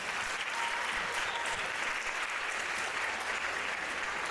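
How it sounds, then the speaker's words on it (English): An Annual Day audience gives a full round of applause for a student team president, thick continuous clapping at constant loudness throughout. "another round of applause."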